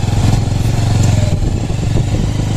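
A motorbike ridden off-road on rough trails near a university in Rajouri, its engine droning steadily and loudly at mid revs with some clatter, close and continuous throughout.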